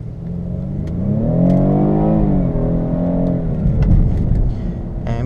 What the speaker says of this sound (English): Besides the tiny bit of lag that you have as soon as you put your foot down, it's actually decently quick.